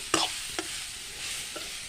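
Beetroot sautéing in a pan gives a faint, soft sizzle broken by two or three sharp stirring scrapes or taps near the start. The sizzle then fades to a low hiss in a short, quiet moment.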